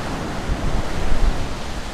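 Sea waves wash onto a shore littered with seaweed, a steady broad surf roar with a gentle swell in the middle, heard alone with some wind.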